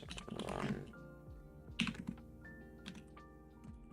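Quiet typing on a computer keyboard during live Rust backend coding: irregular clusters of soft key clicks with a few sharper taps, close and low in level, with no voices.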